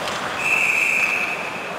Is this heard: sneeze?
no